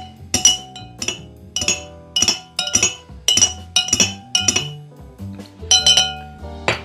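Ice and a spoon clinking against a glass while a Piña Colada cocktail is stirred, a series of bright, sharp chimes in an irregular rhythm, close and clear with no talk.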